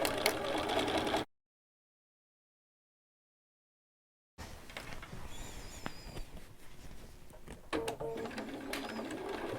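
A Singer sewing machine stitches around the edge of fabric for a tablecloth or kitchen towel, in close whirring bursts. A stretch of dead silence falls between the opening burst and the later, longer run.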